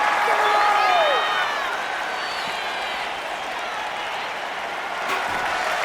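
A wrestling arena crowd in the WWE 2K25 video game cheers and applauds in a broad, steady roar, with a few rising whistles and whoops early on that settle into sustained crowd noise.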